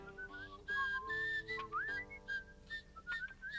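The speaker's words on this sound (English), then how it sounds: "Plenty of whistling." A person whistles a lilting, wavering melody, clear and close, with pitch slides over a soft instrumental backing, from Disney's Robin Hood.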